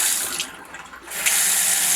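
Water running from a kitchen faucet after its flow-restricting O-ring was removed, a strong hissing stream that dips briefly mid-flow then surges back full, with no talking.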